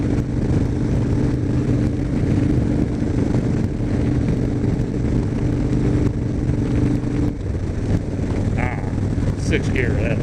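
A Harley motorcycle engine cruising in sixth gear on a ride, a steady low rumble mixed with heavy wind buffeting, continuous and close with the tone shifting slightly partway through.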